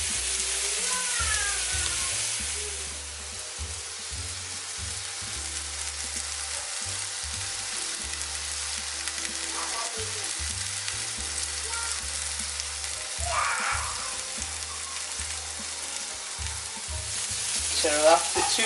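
A spicy beef patty sizzles in a hot pan, a continuous close frying crackle with stirring and shuffling noises, slightly louder near the end.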